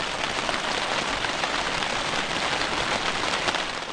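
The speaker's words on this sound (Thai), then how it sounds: "ฝนตกเนี่ยบ่หยุดบ่เซา" Heavy rain pours without a break through the night during a windy storm at a camp by a stream, a dense, steady hiss of drops beating on surfaces that stays loud and even throughout.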